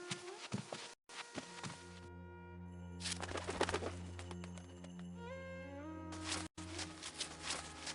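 A pigeon coos softly and repeatedly in the game Jerusalem as it returns with something tied to its foot, with low throaty calls over a sustained musical drone and a few faint thunks.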